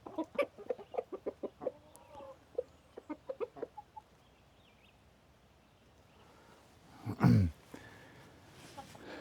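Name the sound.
chickens clucking in a chicken run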